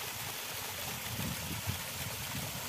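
Water spills steadily over rocks at a small waterfall running low in the Palakondalu hills of Kadapa, a continuous moderate rush with no voices.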